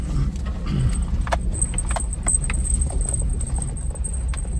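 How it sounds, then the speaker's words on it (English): A car rolls along a forest road in Chequamegon National Forest, Wisconsin, its low engine rumble steady and close with faint rattles and jangles riding over it, no talking. "let's drive down the road a little bit and see what else there is available or around"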